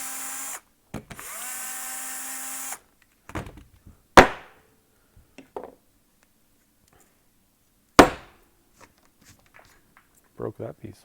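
An Alumilite resin turning-blank mold holding cholla cactus and burl wood is smacked against a desk, two sharp loud thuds among scattered knocks and handling clatter, with a voice speaking at the start.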